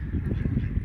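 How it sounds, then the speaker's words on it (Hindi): Ducks give short nasal quacks and honks close by, a brief cluster of calls. "ये आप बतखें देख रहे हैं कितनी प्यारी लग रही हैं"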